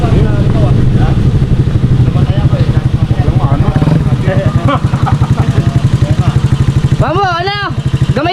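A motorcycle engine runs steadily at close range with a throbbing, pulsing beat, loud throughout, while people talk over it.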